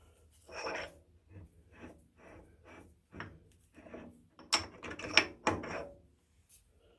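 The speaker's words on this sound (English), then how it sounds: "Loosen off the clamp," A strap clamp being loosened and rotated out of the way, heard as a series of short mechanical clicks, scrapes and ratcheting rattles, close and moderately loud, with a few sharper knocks near the end.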